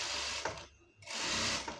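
Sewing machine stitching pants, a loud close mechanical whir that runs briefly, stops for a moment, then starts again.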